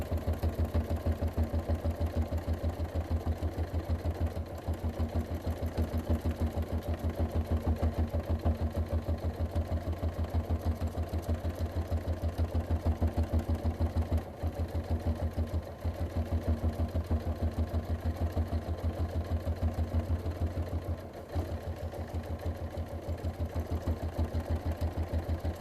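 A domestic sewing machine runs steadily and close up while doing free-motion bobbin work quilting on black fabric, a continuous whirring hum with a fast regular needle chatter and only brief slowdowns, with no talking.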